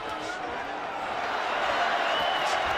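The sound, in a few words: boxing crowd cheering for Canelo Alvarez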